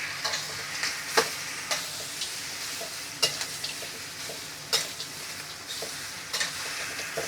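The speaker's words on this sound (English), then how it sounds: "So now a quick stir fry." Lamb breast is stir-fried in a sauce in a pan, a steady sizzle with periodic sharp scrapes and clacks of the utensil against the pan, close by.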